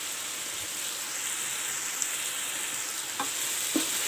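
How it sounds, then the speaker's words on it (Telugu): Coriander and mint fry in ginger garlic paste for a chicken pulao, a steady close sizzle and crackle with a few light scrapes of a spoon stirring the pan. "ఇవి కూడా బాగా వేపుకోవాలి."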